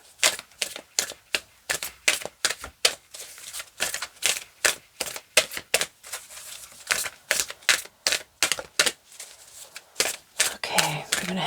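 A deck of cards is cut and split by hand, making a long run of crisp, evenly spaced snapping and riffling clicks, close and fairly loud, without talk.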